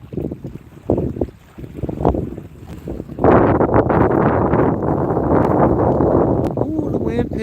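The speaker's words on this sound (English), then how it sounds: "Ooh, the wind picked up." Wind picks up over a flooded cove during a catfish fishing outing, with scattered rustling and knocks that swell into a loud, steady broadband rush of gusts against the microphone.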